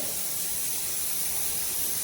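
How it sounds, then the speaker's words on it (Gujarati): Water heating to a boil in a cooking pot, ready for pulao rice, gives a steady, even hiss that fills the whole stretch without pause. "હવે એક તપેલીમાં મેં પાણી લીધું છે, હવે એ ઉકળવા લાગ્યું છે"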